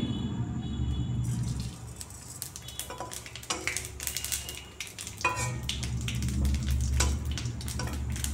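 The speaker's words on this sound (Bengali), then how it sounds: "তেজপাতা জিরে দিয়ে আমি আলু কাঁচকলাটাকে ভেজে নেব।" Bay leaf and cumin seeds sizzle in hot oil in a pan for a potato and green banana curry with rohu fish, a crackling fry punctuated by clinks of a utensil against the pan.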